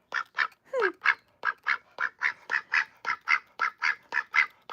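A pet duck quacks in a steady, rapid run of about seventeen loud, close quacks at an even rhythm, with no voices.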